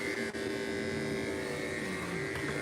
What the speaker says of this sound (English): starting with a corded clipper, with a blue attachment, we're going to go in reverse